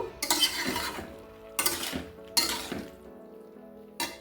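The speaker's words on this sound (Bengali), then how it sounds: "ভেজে রাখা যে বেগুনটা রয়েছে সেটাও এখন আমি দিয়ে দেবো দিয়ে আবারও একটু নাড়িয়ে দেব" Spinach curry with fried eggplant being stirred in a pan, a spoon scraping in a few separate bursts with soft sizzling between them.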